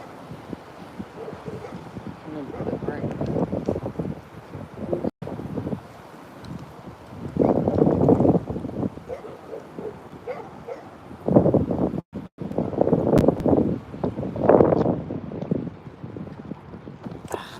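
Gusty outdoor wind buffets a microphone beside a railway line, swelling in loud rumbling bursts that come and go across the clip with brief dropouts between gusts; no voices are heard.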